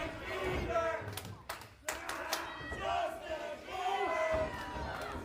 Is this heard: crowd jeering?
yes